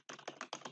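A password being typed on a computer keyboard: a quick, close burst of dense key clicks in three short clusters, quiet and with no voice.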